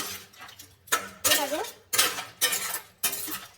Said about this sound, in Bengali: দেখুন আমি এটাকে নাড়াচাড়া করতে আছি